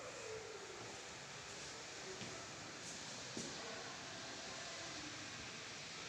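A small train rounds a bend on the track at the Adelaide Railway Museum, giving a steady, fairly distant rumble and hiss that runs unbroken through the whole stretch, with faint squeals rising briefly near the middle.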